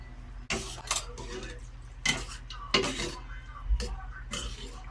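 A spoon clinks and scrapes around a pot of chicken curry with liver and coconut milk, giving a few distinct knocks and a steady stirring clatter, close and fairly loud.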